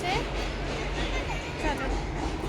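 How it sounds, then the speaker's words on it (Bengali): Freight train passing overhead on a bridge, a continuous low rumble and rattle of wagons rolling steadily above, under people talking nearby. "ট্রেন যাচ্ছে, মালগাড়ি যাচ্ছে, আর আমরা নিচ দিয়ে যাচ্ছি।"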